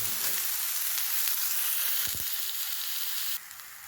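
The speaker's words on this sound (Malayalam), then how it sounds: "അതിനുശേഷം നല്ലതായിട്ട് ഇളക്കി കുറച്ചൊന്ന് ഫ്രൈ ചെയ്തെടുക്കുക" Ingredients fry in hot oil for a healthy breakfast, a continuous loud sizzle with a brief scrape of stirring midway, easing slightly toward the end; nobody speaks.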